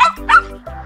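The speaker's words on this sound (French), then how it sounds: "Le plus petit est le chihuahua." Small chihuahua dog yapping, a couple of short high yips followed by a whimpering whine, close and fairly loud with no one speaking.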